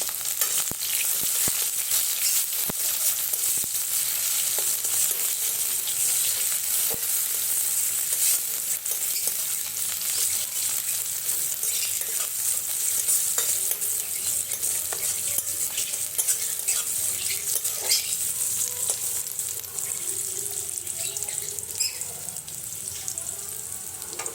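Garlic, chili and onion frying in a pan give off a continuous bright, hissing sizzle that stays loud and steady throughout, with faint clinks of stirring mixed in.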